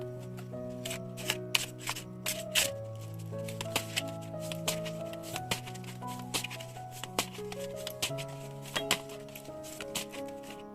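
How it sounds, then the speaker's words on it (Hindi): Tarot cards being shuffled by hand, a steady run of soft papery riffles and taps close by, with a soft musical backing underneath and no talking. "फिर भी शफल कर लेंगे हम"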